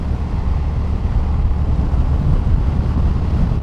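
Wind roars steadily and loudly across the microphone while riding a 2025 Honda GB350S motorcycle on UK roads, a constant low buffeting rumble that covers the whole stretch.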